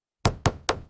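Four crisp hammer knocks strike in a quick, even rhythm, close and loud, in a garage repair setting.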